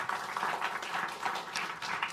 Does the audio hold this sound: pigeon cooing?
no